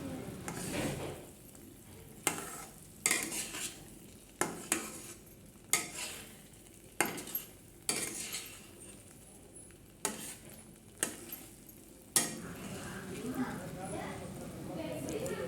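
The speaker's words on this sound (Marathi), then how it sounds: "घट्ट होईपर्यंत याला मी इथे शिजवून घेणार आहे" A thickening grape ladoo mixture cooking in a pan, scraped by a spoon in regular strokes about once a second over a low bubbling sizzle, with a voice talking throughout.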